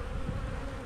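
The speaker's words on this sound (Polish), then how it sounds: "Zobaczcie, ile tutaj jest pszczoły." Honey bees swarm densely around a frame lifted from a new hive, filling the moment with a loud, continuous close buzzing drone and no voices.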